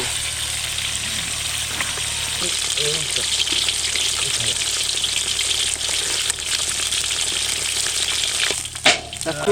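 Katla fish sizzles and spits steadily in a hot pan of oil in a village home kitchen, a loud continuous frying hiss running the full length with a brief clatter near the end.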